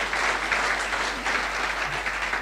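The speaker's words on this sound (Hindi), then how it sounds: "जोरदार तालियां होनी चाहिए।" A seated audience at a business gathering breaks into sustained applause, a dense wash of clapping with slight swells, accompanied by a constant low electrical hum.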